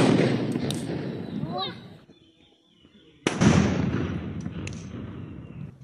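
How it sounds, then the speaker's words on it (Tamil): Loud crackling bursts of Diwali firecrackers, including atom bombs, going off close by, a brief lull, then another dense volley of sharp pops with voices underneath. "ஆனால் ஆட்டோபாம் வைக்கும்போது கொஞ்சம் தூரமாக ஓடி போயிடணும்னு நினைக்கிறேன்."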